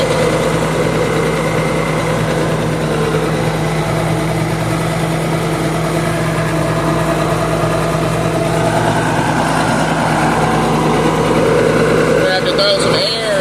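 An engine runs steadily at a held raised throttle set by a lock throttle, a loud, constant close drone with little change in pitch throughout.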